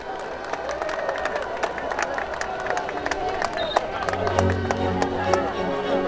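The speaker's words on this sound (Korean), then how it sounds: "여러분 큰 박수로 맞이해 주시기 바랍니다" Outdoor political rally crowd at Gwanghwamun in Seoul, with scattered clapping and cheering over a busy murmur of voices and background music, building slightly toward the end.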